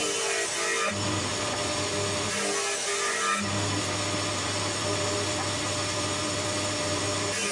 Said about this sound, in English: I've cut dados for the tops and the bottoms.